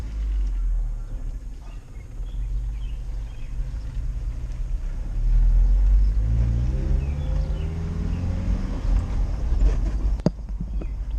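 A Little Tikes toy car fitted with an engine and a clutch worn to the floor, driving along: a steady loud low rumble with rising and falling engine tones throughout, and a sharp knock near the end.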